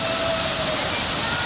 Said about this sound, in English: here we are at Cataratas Llano de Cortez waterfall.